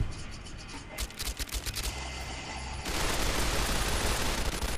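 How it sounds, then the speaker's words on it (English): Assault rifle fire in Fallout: New Vegas, a quick string of about eight sharp shots in rhythm, followed by a louder, sustained roar of gunfire and noise that fills the rest. "How about I get my assault rifle out and start killing some people?"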